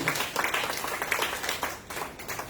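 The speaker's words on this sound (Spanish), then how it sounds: "Den un aplauso grande al Señor en esta mañana, mis hermanos." A church congregation claps together during a Spanish-language worship service, a moderately loud, uneven patter of many hands that swells and dips in ragged pulses.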